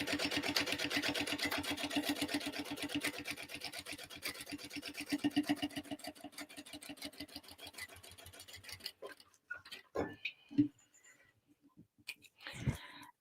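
A sewing machine runs steadily for about nine seconds, sewing a basting stitch along the outer edge of a tote bag with a fast, even mechanical chatter, then stops and a few short handling clicks and knocks follow.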